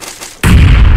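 A bomb detonates in PUBG: a quiet lead-in, then a sudden, very loud blast that hits hard and keeps booming up close to the end of the moment.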